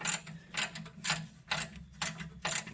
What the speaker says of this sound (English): Use my ratchet like a wrench.